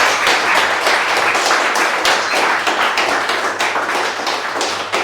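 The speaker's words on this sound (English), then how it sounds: "Applause!" Audience at a conference talk applauding in a steady, dense wash of many hands clapping together, loud and sustained for several seconds with no voices over it.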